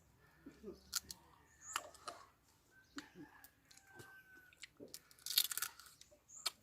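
Crunchy paddy-field crab, caught at night, being chewed and eaten with its rich roe, giving scattered crisp crunches and bites at close range with soft murmurs between.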